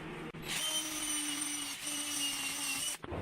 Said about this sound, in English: we're just going to drill a hole down in here where we want it fastened and rivet it together.